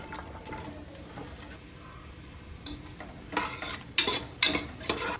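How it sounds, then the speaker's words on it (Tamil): Onions dropped into hot oil for country-chicken biryani, a soft low sizzle that swells into louder crackling bursts near the end, with a few scraping stirs of a pan. "எண்ணெய் காஞ்ச உடனே வெங்காயம் போட்டுக்கலாம்"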